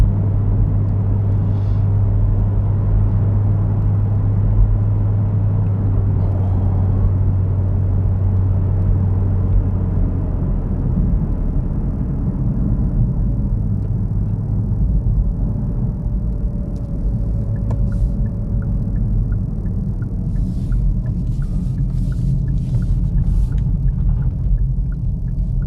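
A 2022 Hyundai i30N Performance with a manual gearbox is driven on the road, giving a steady low engine rumble with road and tyre noise heard from inside the cabin, continuous with no talk.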